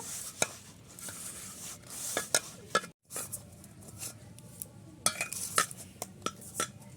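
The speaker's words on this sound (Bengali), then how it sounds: "এই ডোটাও মেখে নিলাম" Spinach-green puri dough being kneaded and squeezed by hand in a kitchen bowl, giving soft repeated squelching and slapping presses with brief pauses, close and fairly quiet, no talking.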